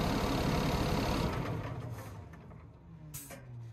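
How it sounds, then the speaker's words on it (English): A Cummins ISL 400 diesel engine rumbles steadily up close, then its low drone winds down and fades after power is cut by pulling a fuse, leaving a brief click and quieter tail. "now to stop it, we're just gonna pull the fuse and the engine will turn off."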